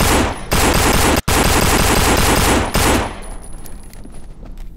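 Rapid automatic gunfire in the zombie shooter No More Room in Hell comes as a loud, continuous burst with one tiny gap, then tapers into fainter scattered shots and game noise.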